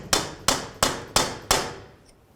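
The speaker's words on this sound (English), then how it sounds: "continue on with a hammer and punch" Five sharp metallic hammer blows strike a punch on the axle of a 2010-2013 Ford Transit Connect 2.0L in a steady, evenly spaced rhythm, each ringing briefly before the next; close and loud.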